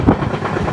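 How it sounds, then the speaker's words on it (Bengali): A train rumbles across a bridge near Bagrakot in the hills of West Bengal, a loud and continuous wheel roar with a faint rhythmic clatter and no break. "ব্রিজ থেকে ট্রেনটা যাচ্ছে"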